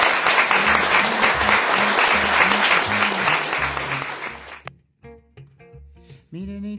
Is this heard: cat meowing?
no